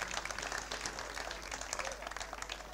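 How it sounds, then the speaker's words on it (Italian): An audience at the Premio Sergio Granata 2023 award ceremony claps briskly in a continuous, fairly distant burst of applause. "lo concediamo con un grosso applauso"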